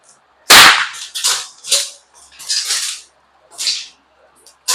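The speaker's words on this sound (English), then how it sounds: "Iguana Ninja with a super, super quiet air gun" Several short sharp snaps from a super quiet air gun at an iguana sniper event, at least six reports spaced irregularly over a few seconds, fairly close with no talk.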